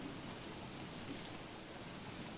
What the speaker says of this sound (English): Oh, crap, it's raining frogs.